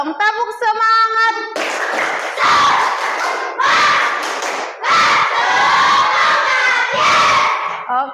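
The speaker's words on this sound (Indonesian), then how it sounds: "Tepuk semangat dulu dong." A class of Indonesian schoolchildren performs a 'tepuk semangat' clapping cheer, opening with a sung line and then bursting into loud rhythmic group shouting and clapping in several bursts, with a teacher's voice among the chorus.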